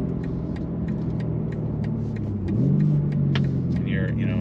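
Exhaust of a 2021 BMW G80 M3 rumbling steadily while driving, rising in pitch and loudness as it revs partway through, with faint clicks and brief sounds above the drone.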